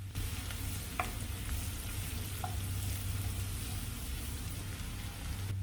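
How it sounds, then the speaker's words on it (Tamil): Finely chopped onions sauté in a generous amount of sesame oil in a kadai for a green chili sambal. A steady, soft crackling sizzle carries on throughout, with a faint stir or clink now and then. "பொடியாக நறுக்கின வெங்காயம் சேர்த்து வதக்கலாம்"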